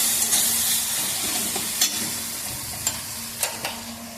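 Chicken chow mein noodles stir-fried in a pan at home: steady sizzling hiss with a few sharp crackles and pops of spattering oil toward the end, close and fairly loud, no voices.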